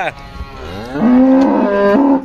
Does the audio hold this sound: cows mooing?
yes